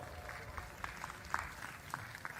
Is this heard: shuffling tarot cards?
no